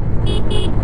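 Horn of a 2024 TVS Apache RTR 160 4V motorcycle, two short loud beeps over engine and road rumble while riding.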